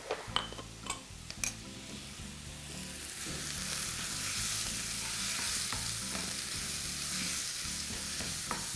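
Minced meat with cinnamon, black pepper and other spices is stirred in a hot pan. A few utensil clinks open the clip, then a steady moderate sizzle with soft scraping continues to the end, with no talk.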